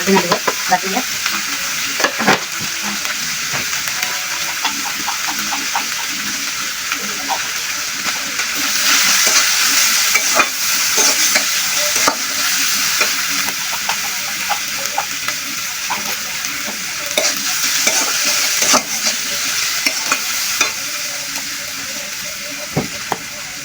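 Dried fish chutney fries noisily in a pan, with a continuous sizzle broken by repeated scraping and clinking as a spoon stirs the mixture. The sound stays close and loud throughout.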